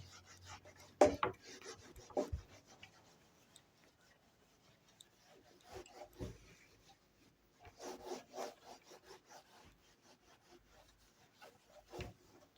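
Someone rubs writing off a classroom board with an eraser. Faint, scratchy strokes come in scattered bursts with quiet gaps between them.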